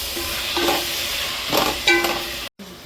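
Spoon stirring a biryani masala mixture in a pan, three scraping strokes with a soft sizzle beneath, close and moderately loud, ending in a brief clunk.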